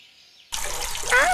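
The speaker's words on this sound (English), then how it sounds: "we need to have a shower." Shower water runs at a water park, starting suddenly as a steady, fairly loud hiss of spray that continues to the end, with a brief tonal voice-like sound near the close.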